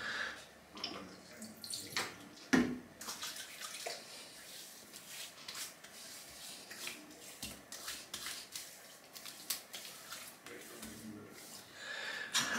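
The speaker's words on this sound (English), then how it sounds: "let's just have a splash of some witch hazel" Witch hazel splashed onto the face after a shave with a Bombay Shaving Co Defender razor, giving wet slapping splashes and liquid sounds, a sharp louder splash near the start and softer patting after.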